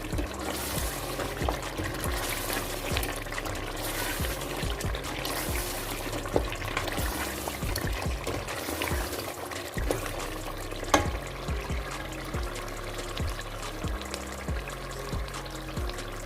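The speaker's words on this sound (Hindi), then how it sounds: "लेकिन पहले इसको 2 से 3 मिनट और अच्छे से इसको भूनेंगे" Spiced meat with coriander powder for daal gosht sizzles steadily in a pot, with soft scraping and stirring knocks throughout, close and continuous.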